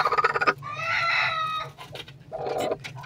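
A broody hen clucks and makes drawn-out, throaty grumbling calls close by, rising and falling in a few repeated bursts.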